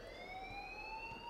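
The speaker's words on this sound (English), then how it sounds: "please turn off that alarm since that's your job" A school fire alarm in Life Is Strange rings continuously with a steady electronic tone and overtones. It holds constant and fairly loud for the whole moment, with nothing else over it.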